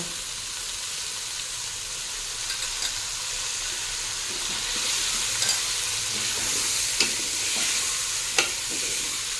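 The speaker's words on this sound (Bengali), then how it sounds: "খুব ভালো মতো করে মিশিয়ে ভেজে নিতে হবে" Lentils and gobindobhog rice fry in a pan with a continuous sizzle and hiss, while a spoon scrapes and clicks against the pan in occasional strokes that grow busier toward the end.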